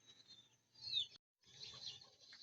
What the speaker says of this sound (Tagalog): At eto na nga yung mga kalapati natin na pang norte.